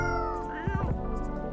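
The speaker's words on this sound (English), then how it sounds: "Aw, poor kitty. Did the machine wake you up?" A cat in the Coffee Talk video game lets out a short, drawn-out meow over a steady café background hum, close and fairly clear.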